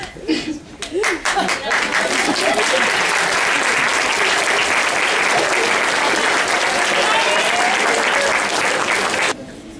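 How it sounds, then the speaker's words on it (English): An audience applauds school play narrators at a primary school performance, a few scattered claps swelling quickly into sustained, loud clapping from a crowd that runs for several seconds before cutting off abruptly. "Please give an applause to narrator 1, Valeria, narrator 2, Carla, narrator 3, Michelle, narrator 4, Vania, and narrator 5, Mariana"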